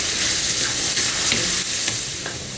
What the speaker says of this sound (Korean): 달궈진 팬에 올리브 오일을 좀 넉넉히 둘러주세요. 그 다음에 마늘 먼저 볶아줄 거예요